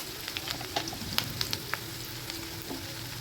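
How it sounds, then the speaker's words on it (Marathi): Onion fries in hot oil as it is stirred, a soft continuous sizzle broken by light clinks and scrapes of the spoon against the pan, close by and without speech. "याला मिक्स करत करत कांदा हा छान असा भाजून घ्यायचा आहे"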